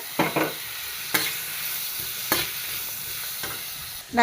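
Chili, coriander and turmeric powders being dry-heated and sautéed in a pan for a Kerala-style green pigeon pea curry: a soft, low sizzle broken by a few distinct scraping stir strokes of a spoon against the pan, close by and without talk.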